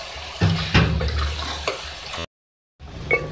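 Spinach with beef, onion and yogurt being stir-fried and stirred in a pan, giving short scraping and sizzling bursts close by, broken by a brief silent gap.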